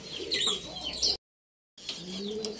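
Racing pigeons cooing and shuffling close by inside a box, with soft wing and scratching noises, interrupted by a brief silent gap.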